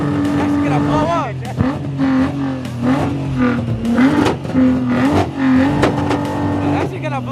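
A Lexus LFA engine revs at a JDM car meet, its pitch climbing and falling in repeated loud, wavering pulls, with crowd chatter mixed underneath.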